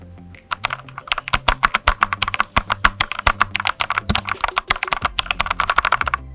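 A 60% mechanical keyboard with red switches clatters under fast, continuous typing, its dense, crisp keystrokes close up and loud with no talking.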